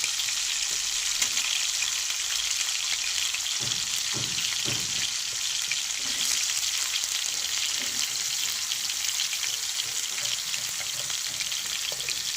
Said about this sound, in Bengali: অল্প ভাজা ভাজা হয়ে গেলে আমি একে একে সব সবজিগুলো এর ভেতরে দিয়ে দেবো